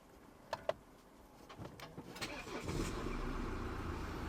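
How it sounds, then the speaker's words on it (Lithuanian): A 2.2-litre 143 kW diesel car engine is cold-started: a couple of sharp clicks and faint shuffling, then the crank catches and settles into a steady, rough diesel idle, fairly quiet and close. "Cold startas."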